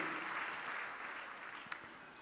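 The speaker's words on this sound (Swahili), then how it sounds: "nisikie makofi mengi ya shangwe." A church congregation applauds during a Christmas sermon, a faint, even wash of clapping heard from some distance with one brief sharp tick near the end.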